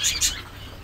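Silver Java sparrows, kept as pets, give two bright high chirps close by near the start, followed by a faint low hum of the room.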